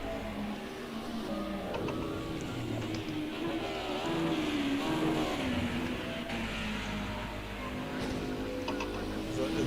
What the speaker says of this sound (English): That is Terry getting that car very sideways through turn number 1